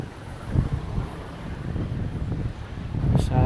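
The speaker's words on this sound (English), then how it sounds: "a little bit on the breezy side still" Breezy wind buffets the microphone on a coastal walk near Filey, a low rumbling gust noise that rises and falls steadily throughout.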